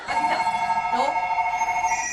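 A mobile phone rings with a steady electronic tone held across the whole stretch, fairly loud and close, while a voice speaks briefly over it.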